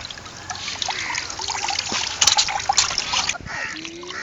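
Water trickles and splashes as it is poured into flour while parotta dough is mixed in a traditional outdoor cooking setting. The pour is close and steady, with brief splatters partway through.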